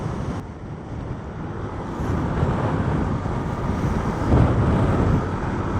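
Strong wind roars over a rider on a Yamaha Nmax Techmax scooter on a road in Pangasinan, a continuous loud buffeting rush with a low engine drone beneath, swelling slightly toward the end.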